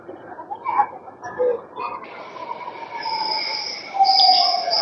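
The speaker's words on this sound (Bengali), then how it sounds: "চলে আসছে মেট্রো।" A Singapore MRT metro train pulls into a station, its rising whine and high-pitched wheel squeal growing louder over platform ambience and a few faint voices.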